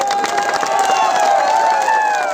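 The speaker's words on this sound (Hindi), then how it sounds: "आप अपना बुरुई लोगों को भी एक हाथ ताली दो।" A crowd at a political rally in Tripura applauds and cheers over a loud public-address system, with a dense, continuous clatter of clapping and a sustained tone ringing through the PA.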